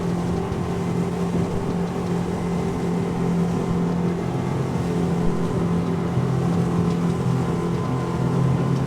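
Virtue V10 motorboat leaning into a turn at around 40 knots, a loud, steady outboard engine roar with constant rushing water, droning on without pause and with no talk.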